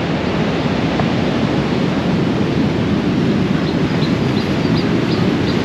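Ocean surf at Cemara Beach, Cidaun, Cianjur, on Java's south coast, roars continuously and loudly, a steady wash of rough breaking waves with no voices.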